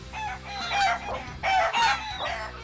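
A chicken in a video game clucks and crows in a busy, layered run of loud squawks and rising calls over a low, steady game hum, with no talk over it.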